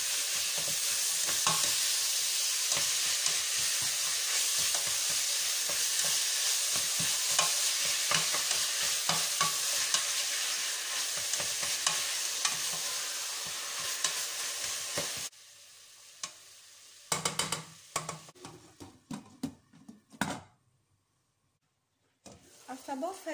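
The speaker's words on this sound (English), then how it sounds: "And I'll put my minced beef in. Mix very well with the onion." Minced beef and onion stirring and frying in a pan, a steady loud sizzle with scraping stirs for about fifteen seconds, then the sizzle drops away into quieter, broken kitchen sounds.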